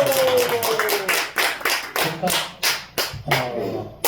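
Congregation clapping at a Monday evening revival service at a church, with a run of sharp, fairly regular claps close by, a brief voice at the start and under the first claps.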